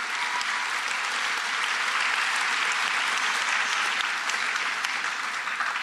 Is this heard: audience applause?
yes